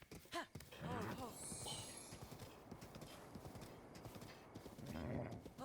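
A horse in a Zelda-style video game on the Switch 2 clip-clops at a steady trot and gives a whinny, with game sound effects and a person speaking over it.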